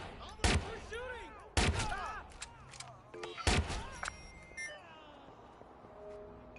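Gunfire in Watch Dogs 2, three loud sharp shots a second or more apart, each trailing a ringing echo over game ambience with beeps and faint voices in between.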